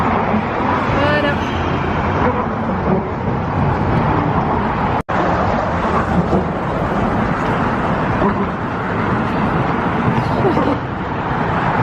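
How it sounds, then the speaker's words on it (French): Dense roadway traffic streams past continuously in San Francisco near the bay, a steady broadband roar with a brief dropout midway, while a voice talks over it throughout. "Il y a beaucoup de circulation ici, comme vous pouvez le voir."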